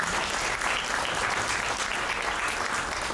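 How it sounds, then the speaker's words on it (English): Sustained audience applause after a talk on Robert Sobukwe and the apartheid legal system, a dense, steady wash of many hands clapping at even loudness throughout. "And I think he deserves a round of applause"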